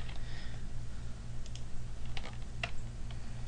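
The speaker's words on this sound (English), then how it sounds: "I'm going to type here." Typing on a computer keyboard while editing in Kdenlive: irregular clusters of light clicks and key taps, close and moderately quiet, over a steady low electrical hum, with no talking.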